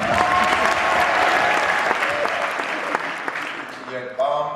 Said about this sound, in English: We're clap up for Flex.